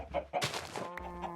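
Chickens clucking in Minecraft with the Agrarian Skies 2 modpack, a few short, quiet clucks in quick succession at close range, with no talk over them.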